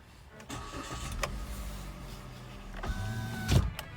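Electric windows on a Kia Picanto automatic limited edition car running, a steady motor whine rising and stopping twice with a thunk at the end of travel, close and alone.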